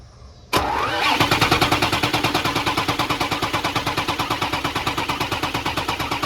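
A Ford 6.0 Powerstroke diesel that runs rough, started from a remote start wire: after a quiet moment it cranks and catches abruptly, then settles into a loud, close, rhythmic diesel clatter with a steady pulsing beat.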